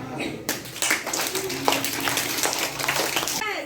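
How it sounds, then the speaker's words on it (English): Children clap together in a child care classroom, a burst of sharp hand claps starting abruptly and continuing steadily under a teacher's voice. "Clap."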